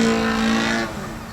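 A radio-controlled Addiction XL aircraft engine drones steadily at high revs during a knife edge spin, loud and continuous, then eases slightly and fades.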